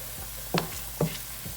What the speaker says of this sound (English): And we're gonna let this saute, which is gonna get a good flavor for this cabbage.